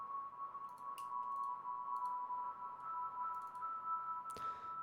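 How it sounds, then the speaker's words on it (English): A tingling, very high-pitched synth key washed in Valhalla Supermassive reverb, holding a thin shimmering tone over a faint low hum with brief sparkly accents, alone and without speech. "that tingling, really high pitched sound you hear in the melody"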